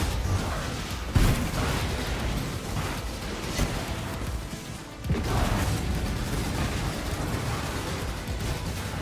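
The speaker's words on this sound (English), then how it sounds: "we took that fire explosion to the face" Fiery explosions from a Path of Exile Cyclone Slayer build, a dense, roaring burst of blasts and crackling impacts running continuously under game noise, with a sharp hit near the start and another heavy burst midway.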